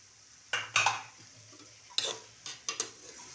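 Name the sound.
stirring and stir-frying hakka noodles with vinegar in a pan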